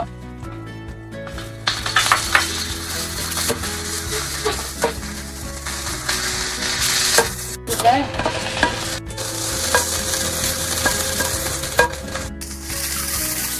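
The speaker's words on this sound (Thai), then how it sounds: "จากนั้นก็ใส่หมูลงไปเลยนะคะ เมื่อกระทะร้อนแล้ว" Pork stir-frying in a hot pan with garlic, a continuous loud sizzle broken by the scrape and clatter of a spatula stirring against the pan, close by with no talk.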